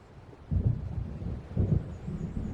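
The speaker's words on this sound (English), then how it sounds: "It seems there's a storm coming." Rolling thunder of an approaching storm in the video game Alan Wake Remastered, two deep low rumbles a second apart over a faint background of rain and wind, no talking.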